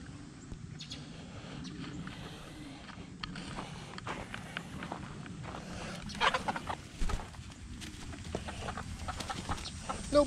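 Chickens scratch and peck through fresh wood chips in a backyard chicken run. Soft rustling and scattered taps are heard throughout, with a few quiet clucks and louder scratching bursts toward the end.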